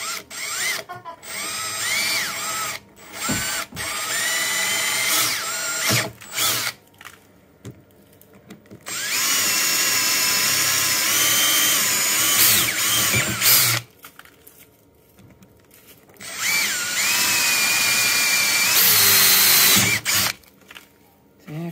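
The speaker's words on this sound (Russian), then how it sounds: "Я сверлю." A power drill bores into parts during construction of the floats and beams of a Scarab 650 trimaran, whining in several loud bursts separated by pauses, with people talking in between.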